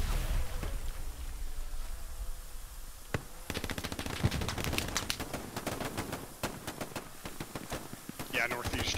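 Rapid machine gun fire in the Hell Let Loose video game, sparse at first, then dense repeated bursts of shots from the midpoint on, loud against constant battlefield background noise.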